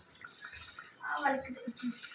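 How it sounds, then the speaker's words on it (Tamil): Water pours and splashes into a cooking pot for tomato biryani, rising in volume partway through, with someone speaking over it. "இப்போ இதில் நீ ரெண்டு படி தண்ணி வைக்கணும்"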